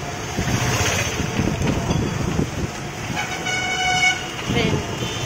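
A nearby train rumbles past and its horn sounds a clear tooting blast partway through, over steady rolling rail noise.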